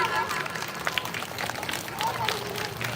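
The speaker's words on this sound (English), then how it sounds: "Kindly give her a round of applause, everyone" Audience applause at a primary school Janmashtami celebration, a steady, moderately loud patter of clapping with a voice talking over it throughout.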